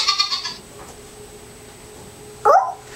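Recorded goat bleat from a baby's farm animal sound book, two short bursts about two seconds apart, the first a quick wavering bleat and the second a brief sharp cry, close and fairly loud with quiet between.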